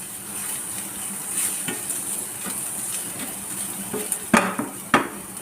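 Coconut roasting in a pan while being stirred, a step in making kadala curry. A soft continuous sizzle runs under scraping spoon strokes, and a few sharp metallic clanks come near the end.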